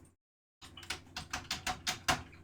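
Rapid keystrokes on a computer keyboard follow a brief silence, a close series of sharp clicky taps with an uneven rhythm, heard alone.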